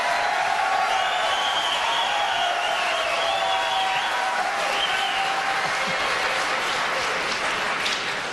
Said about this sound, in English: I never thought heroin would get applause here in South Carolina.